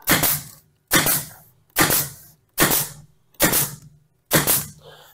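A staple gun fires into the side of a Conestoga wood cabinet during assembly: six loud, sharp close snaps at an even pace of roughly one per second, each ringing briefly before the next, with no talk.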